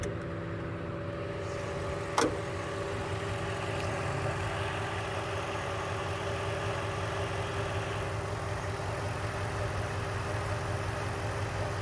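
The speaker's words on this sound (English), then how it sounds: "there's a cold start, or as cold as it gets in Texas" A 2005 Mercedes-Benz E55 AMG wagon engine idles after a cold start, a steady low rumble throughout with a brief click near the start.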